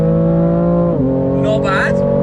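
A BMW M3 CSL accelerates flat out in third gear on the Autobahn, a loud, close engine drone climbing steadily in pitch, dipping briefly at a shift-like break before pulling hard again, with rushing noise rising near the end.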